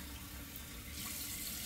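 Cold water runs steadily from a bathroom tap into a sink during a wet shave, a close, continuous rushing splash that swells slightly louder toward the end, with no talk over it.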